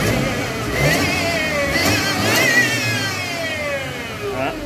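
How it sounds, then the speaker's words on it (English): A Mercedes-Benz W204 engine revving repeatedly, rising and falling engine tones over a steady mid-level rumble, close by with no clear talk. "Press nothing but the rev."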